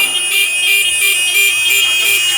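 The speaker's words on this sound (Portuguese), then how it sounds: "vamos buzinar, companheiro!" Vehicle horns honk loudly and repeatedly in a rhythmic pulse during a protest by bus fare collectors, with voices mixed into the din.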